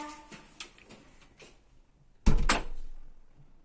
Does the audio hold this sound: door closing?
yes